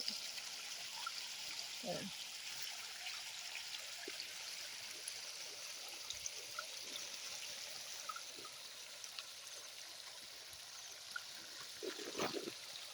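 Water from a solar-powered pump trickles and flows steadily at a quiet, even level, with a few faint knocks and brief handling sounds scattered over the constant stream.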